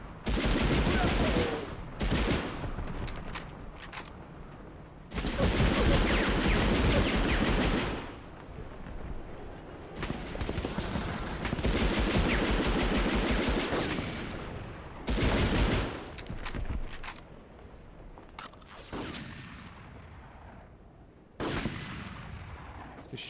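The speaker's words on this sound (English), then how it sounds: "Just shooting with one hand around the corner." Repeated bursts of video game gunfire in Medal of Honor: Underground, fired one-handed around a corner, loud and close, in several long volleys separated by brief pauses, with faint speech in places.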